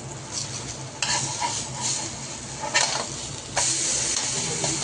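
Pohe thalipeeth sizzling in a pan after being flipped, a close and continuous frying hiss that rises in sharp bursts and swells louder toward the end.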